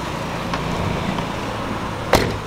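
A BMW E36 328 with a six-cylinder engine on a test drive, a steady wash of engine and road noise with a brief bump near the end, no voices.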